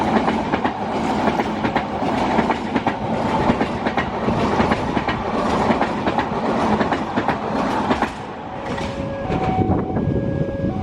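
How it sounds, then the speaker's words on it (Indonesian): Turangga passenger train hauled by a Sawit locomotive passing by, a continuous rumble with rhythmic clickety-clack of wheels over rail joints, fairly close, and brief tonal squeals toward the end. "Dan sudah terlihat kereta api Turangga."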